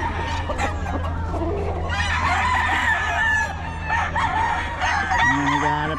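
Gamefowl roosters at a farm or fowl market in Bocaue crow loudly, with several overlapping cock-a-doodle-doo calls and clucks among the birds close by.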